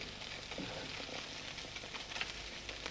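Vegetables sizzle in hot olive oil in a pan, a steady, fine crackling hiss with small pops throughout and no talking.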